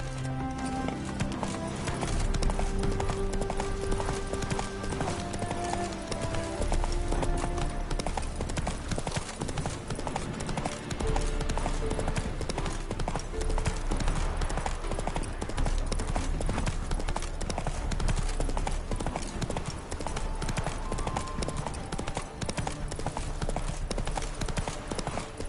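Roach the horse gallops in The Witcher, rhythmic clip-clop hoofbeats running continuously and fairly close, layered over game ambience with occasional voices talking.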